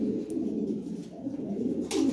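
Lahori pigeons cooing steadily at a loft, a dense low murmur of overlapping coos that continues throughout, close and fairly loud, with a brief brighter rustle near the end.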